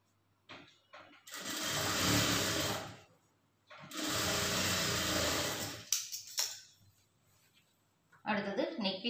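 A sewing machine stitches a blouse shoulder seam in two steady whirring runs of a few seconds each, with someone speaking Tamil in the pauses between them.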